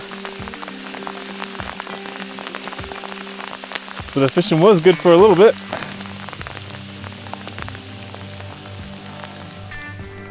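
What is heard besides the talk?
hailstorm in the mountains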